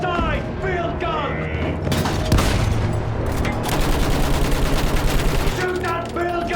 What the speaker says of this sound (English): Shoot that field gun, damn it!